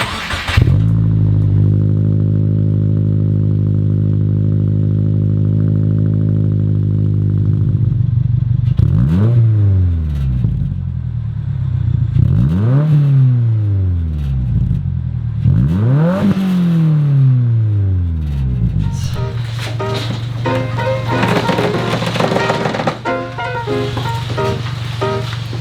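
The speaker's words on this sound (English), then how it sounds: "I'm gonna give you guys a couple sound clips of this JD Muscle exhaust just so you guys can hear it one more time" Subaru WRX with a JD Muscle exhaust idling with a deep burble, then three sharp revs that climb and fall back, followed by a rougher, crackling rev at the end; close and loud, no talking.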